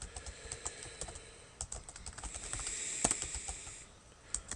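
Fingers type on a computer keyboard, a quiet, close run of irregular clicks and keystrokes with short pauses and a small burst of harder taps, with no voices.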